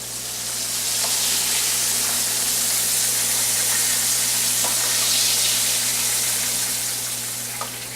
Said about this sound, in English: we're going to be frying these chicken breasts and then putting them in here to finish in the oven